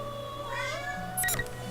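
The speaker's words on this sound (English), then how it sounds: "Kitty." A cat meows in a video game, a single drawn-out rising and falling meow, fairly close and clear over a faint steady background hum, ending in a brief higher chirp.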